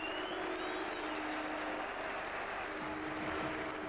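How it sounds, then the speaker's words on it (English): A large cricket crowd at Kensington Oval in Barbados applauds a half century during a Test match, a steady, dense wash of clapping that holds at an even level throughout. "Thoroughly appreciated by a large crowd here at Kensington Oval."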